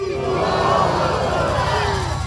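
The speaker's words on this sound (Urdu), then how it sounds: "ایک مرتبہ اچھی زور سے تکبیر کہیے۔" A large crowd at an annual seminary gathering shouts Allahu Akbar in unison, a loud sustained roar of massed voices that carries through without a break.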